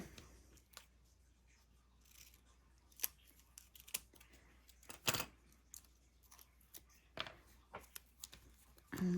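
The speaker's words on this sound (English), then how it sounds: "Now I'm gonna have to wrap a little tape on that one, see if we can get that one through too." Washi tape handled and wrapped around the end of a string on a hanging woodblock garland, giving scattered close crinkles, snips and sharp rustles in an otherwise quiet room with no talking.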